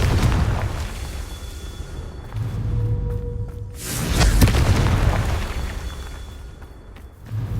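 Confringo blasting spell explosions in the video game Hogwarts Legacy: two deep booming blasts with whooshing rumble, the second louder and fuller, separated by a brief lull, no talk.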